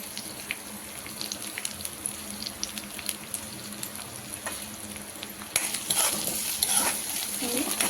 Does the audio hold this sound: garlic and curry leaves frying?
yes